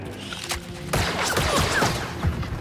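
Blaster shots crackle in Star Wars Jedi: Survivor, a burst of rapid sharp zaps starting abruptly and continuing over a dense game soundscape of music and effects, with no talking.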